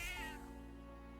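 A cat meows once in the video game Metaphor, a short bright harmonic call that falls away over steady low game background music, fairly close and alone.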